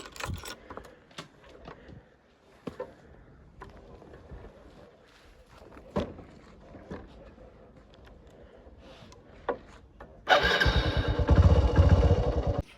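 A motorcycle, readied for a farm milk run, is handled with scattered clicks and knocks before its engine catches and settles into a loud, close, steady running rumble.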